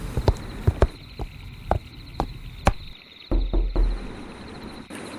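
Knuckles rap on the door of a bungalow at night, a series of sharp, fairly close knocks spaced irregularly, followed by shuffling, thumping movement sounds, no voices.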